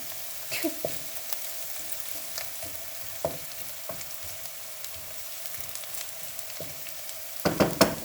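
Vegetables frying for noodles in a generous amount of oil, a continuous close sizzle with intermittent scrapes and clatters of a utensil stirring the pan, louder crackling bursts near the end, no speech.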